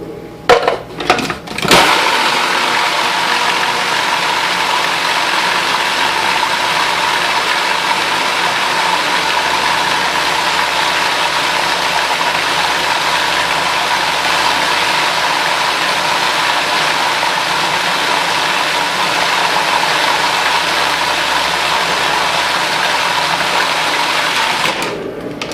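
A kitchen machine blends fresh garden basil with oil in a steady, loud, continuous whir that runs the full length without pause.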